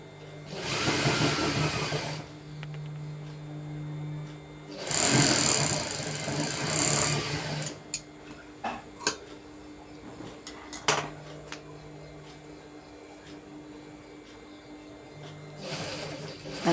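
A sewing machine stitches a belt onto a pant, running in loud bursts of steady whirring, first two long runs, then scattered clicks and short knocks, then a brief run again at the end.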